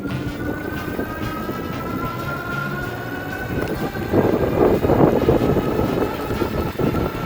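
An EBC Model R electric cruiser bike runs on throttle alone with no pedalling, giving a steady motor whine under heavy wind rush that grows louder about halfway through as it speeds up.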